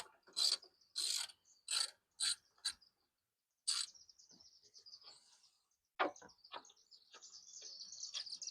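A socket wrench, fitted with an 8 mm socket, backs a bolt out of a 1995 Ford F150 during air conditioning work. It makes quiet, close bursts of rapid ratchet clicking, several short runs separated by pauses, then a longer trailing run.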